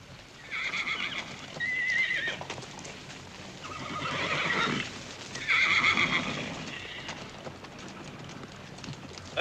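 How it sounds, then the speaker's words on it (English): Horses at a frontier horse auction, including a black gelding, whinny and neigh in several loud calls over steady clip-clopping hooves, moving and fairly close. "let's show them how that Black Beauty moves"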